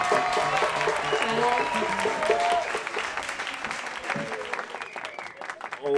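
A live audience at a Haitian variety show bursts into loud, dense applause for a performer, clapping strongly at first and then thinning out over several seconds with crowd noise mixed in.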